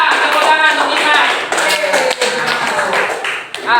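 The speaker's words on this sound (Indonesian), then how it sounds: "Tepuk tangan untuk Dimas." Classroom clapping from students, loud, close and uneven, mixed with taps, thumps and a few voices.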